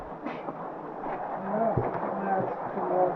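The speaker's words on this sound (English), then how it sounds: "so much rain, so much hail" Rain and hail fall steadily on the trail during a Himalayan blizzard in Nepal, a soft, dense patter close around, with a voice talking over it.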